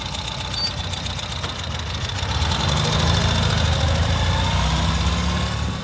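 A 2024 Ural sidecar motorcycle engine runs at a steady, loud, low throb with an uneven mechanical knock, swelling slightly midway as revs rise, with no talking.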